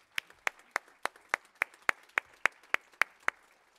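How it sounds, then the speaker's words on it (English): Applause for a long-serving attendee at a People's Question Time public meeting: about a dozen sharp, evenly spaced claps in a steady rhythm, close and clear, with no voices. "Let's give Tony a round of applause, please."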